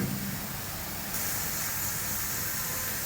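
Onions frying in a hot pan with garlic that has already browned, giving a steady, loud, hissing sizzle that goes on without a break.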